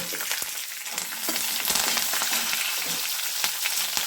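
Fried peanuts, chillies, green chillies and curry leaves go into a hot pan for moringa-leaf pulihora and sizzle. The frying crackles steadily, close and moderately loud, with occasional sharp pops and no talk.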